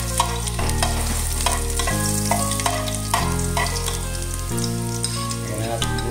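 Ginger dropped into hot cooking oil for chicken sinigang, a steady sizzle and fry with occasional stirring, running continuously beneath background music.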